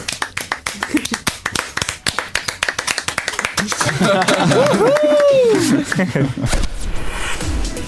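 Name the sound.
studio applause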